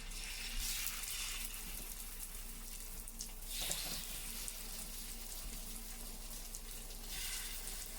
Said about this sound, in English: So today I'm going to fry on the tawa to see how it's come.